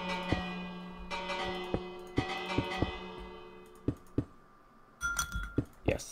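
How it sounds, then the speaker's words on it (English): A bell rings in the Minecraft video game with a few soft, spaced clinking strikes that fade between hits, quiet overall, followed by a small cluster of brighter taps near the end. "ringing the bell"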